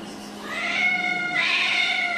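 A cat lets out a drawn-out, loud meow close by, then a second long wailing meow follows almost at once, the cat alone outdoors in extreme cold.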